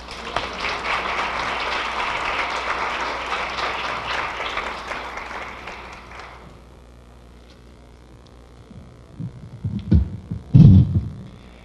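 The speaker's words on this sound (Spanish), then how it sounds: "Recibamos con un aplauso," An audience at a forum on youth and sustainable family development applauds to welcome engineer Alfonso Serrano Gómez, a dense, loud wash of clapping that fades out after about six seconds, then low thumps and handling bumps near the microphone.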